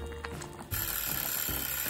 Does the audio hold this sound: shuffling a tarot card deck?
no